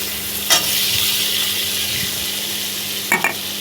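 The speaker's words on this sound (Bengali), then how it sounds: "এখন আবার আলুটা দিয়ে একটু কষিয়ে নেব।" Potatoes sauté and sizzle in a pan for a rita fish curry, a steady close frying hiss with a few brief clinks of a spatula stirring.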